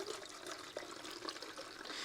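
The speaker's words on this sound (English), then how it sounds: "we're going to just pour this fluid right in here" Permethrin fluid poured through a funnel into a container, a soft, steady liquid trickle heard close up and alone for about two seconds, quiet overall.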